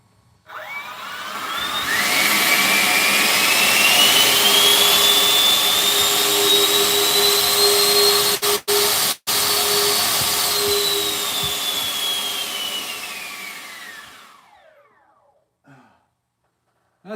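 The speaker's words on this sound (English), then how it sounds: "Listen to the howl from the engine." Drone motor spinning up into a loud, rising whine that holds a high howling pitch with harmonics for about ten seconds, briefly cuts twice, then winds down and fades.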